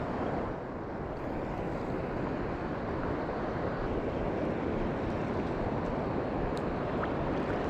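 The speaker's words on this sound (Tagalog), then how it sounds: "Grabe lakas talaga ng alon mga chong." Large, strong sea waves crash during a fishing trip, heard as a constant, dense wash of surf mixed with gusting wind noise on the mic, with no one speaking.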